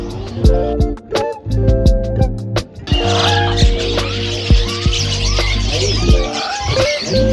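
Caged birds at a Hong Kong bird market chirp and call in quick repeated bursts close by, with traffic noise and street bustle rising behind them partway through.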